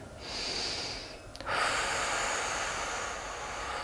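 A soft, close breath during a seated yoga twist, a sustained airy exhale followed after a brief break by another long breath, quiet and alone in a still room.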